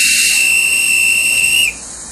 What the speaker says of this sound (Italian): fischio del capostazione